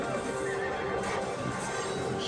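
Horses in a battle scene whinny loudly over a dense, continuous din of hooves and crowd noise, close and prominent throughout.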